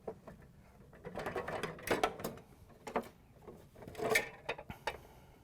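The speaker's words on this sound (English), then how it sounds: "then we can lift the bucket off the assembly" Plastic clunks and rattles as a Frigidaire/Electrolux freezer ice bucket is lifted off its auger assembly, with a run of close, quiet knocks and scrapes spread across a few seconds.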